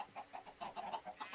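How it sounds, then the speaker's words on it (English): Chickens in the Minecraft video game cluck in a quick run of soft, short calls, faint and close together, with no talking over them. "breed the cows, breed the chickens."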